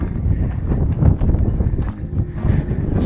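Wind gusting across the Venetian fortress of Spinalonga on Crete, a continuous low roaring rumble buffeting the microphone with surging bursts and no voices.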